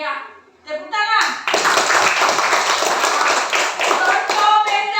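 Children in a classroom clap together, a quiet moment with a voice followed by a sudden, sustained round of close, energetic hand clapping with a few shouts.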